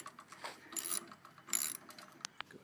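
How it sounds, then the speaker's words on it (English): Ratchet wrench turning an 11mm deep socket to remove bolts from a lawn mower, a few quiet bursts of rapid clicking with short pauses and small knocks between them. "Got an 11mm deep socket on there."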